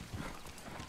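Horse hooves clop briefly in Red Dead Redemption 2, a quick few close footfalls over a steady game background.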